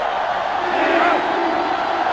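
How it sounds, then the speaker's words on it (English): A sellout stadium crowd roars steadily during a college football game between Florida State and Miami in NCAA Football 2005, a loud, continuous wash of cheering and shouting with no breaks. "This sellout crowd is really making a difference now as these guys can't even call the play"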